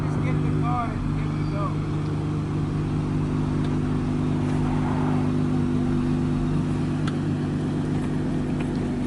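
Straight-piped third-generation Acura TL idling steadily with a continuous low engine drone, brief faint voices and chirps near the start.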